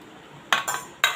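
Snake gourd vegetable with grated fresh coconut and coriander being stirred in a pan, giving three short scraping clinks of a utensil against the pan, close and clear over a quiet background.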